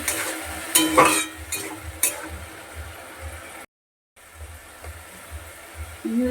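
Spices with salt and a splash of water are stir-fried in a pan for a rohu fish curry: close, sharp spoon scrapes and clinks over a soft sizzle, broken by a brief total silence.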